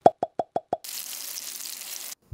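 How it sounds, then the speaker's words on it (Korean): Washed oysters set in a sieve to drain give five quick, evenly spaced wet plops, then a brief steady trickle of draining water that stops abruptly. "굴을 잘 씻고 나서 이렇게 체에 받쳐서 물기를 좀 빼주시면 좋아요"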